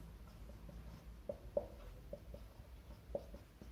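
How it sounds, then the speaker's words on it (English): Pen strokes on paper during a chemistry lesson, a few short faint scratches and taps spaced irregularly over a quiet room tone. "So I will write like this."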